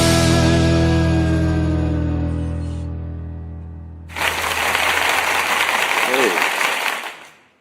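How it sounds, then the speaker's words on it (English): Audience applause and clapping at a live music radio and TV storytelling show, a loud, dense wash of clapping that rises as a sustained musical chord fades and runs steadily for a few seconds, with a brief voice inside. "You get the claps, you get the applause and everything out of that one there"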